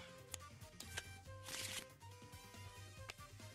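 Cards being shuffled during a Marvel Legendary deck-building card game, a brief riffling burst over a background of steady humming tones and faint clicks.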